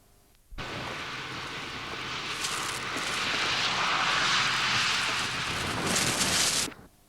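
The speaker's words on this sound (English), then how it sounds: "Now an unidentified freight approaches the tunnel." An unidentified freight train approaches a tunnel on a line between Sheffield and the Peak District, as a broad, steady roar that starts suddenly, swells, and cuts off abruptly seven seconds later, with no voices.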